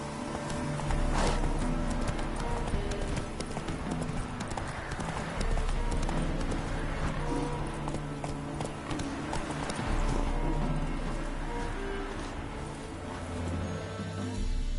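Horse hooves clip-clop steadily on the ground in The Witcher 3, a continuous walking rhythm over ambient game background for the whole stretch.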